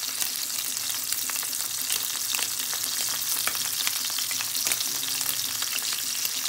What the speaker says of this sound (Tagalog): Tapos, prito-prito lang na rin.